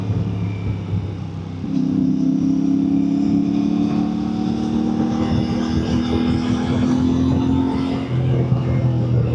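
A CF Moto MT 450 motorcycle engine pulls hard under sudden acceleration, its steady droning note climbing in pitch and holding loud and close, then dropping back as the throttle eases near the end.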